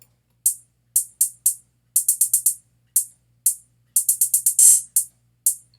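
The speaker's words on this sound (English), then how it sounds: "My hi-hats are pretty simple, and then it has a triplet, and it has a fast roll." Crisp trap-beat hi-hat hits tick out a sparse pattern broken by a triplet, quick rapid-fire rolls and one longer open hat, with no other instruments.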